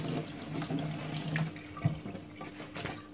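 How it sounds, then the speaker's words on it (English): Hot water runs from a tap as a freshly heat-treated knife blade is rinsed, a soft steady splashing stream with light clinks of the blade, fairly close and quiet. "Rinse again, hot water as hot as I can get it."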